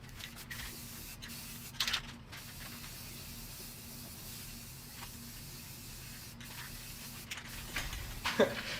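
A spray paint can sprays color onto a part of a 1998 Yamaha Timberwolf ATV, a close, steady hiss running for several seconds with a few brief pauses and clicks between bursts.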